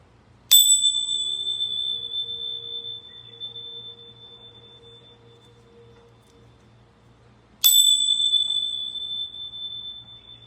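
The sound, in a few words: ringing bells before a card reading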